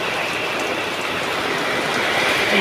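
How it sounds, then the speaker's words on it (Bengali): Heavy rain pours down steadily, making a dense, loud, even hiss of drops striking surfaces nearby. It continues unbroken throughout with no voices. "এত বৃষ্টি হচ্ছে যে আর হচ্ছে প্রচুর বৃষ্টি"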